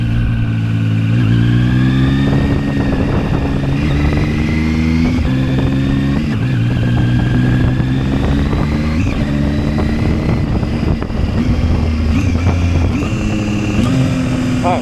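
A ZONTES 703F motorcycle engine revs loud and close while riding, rising and falling with quick throttle blips on downshifts over continuous engine drone.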